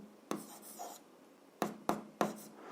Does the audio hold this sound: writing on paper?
yes